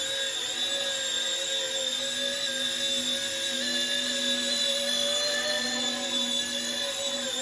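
A small RC ERA C190 Airbus H145 model helicopter spins up and lifts off, its electric motor and rotors making a steady, close, high-pitched whine with layered tonal hum throughout.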